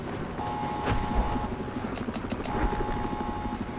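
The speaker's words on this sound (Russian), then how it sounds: "Снесите вертолет-то, ну." Helicopter in the video game Battlefield 4, a steady loud rotor chop pulsing throughout, with faint game effects in the background.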